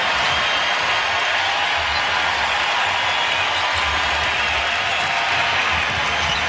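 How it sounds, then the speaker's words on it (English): A basketball arena crowd roars and applauds for the Philadelphia 76ers during a 2003 NBA regular-season game against the Washington Wizards, a loud, dense, steady wash of cheering throughout. "Crowd up for their 76ers."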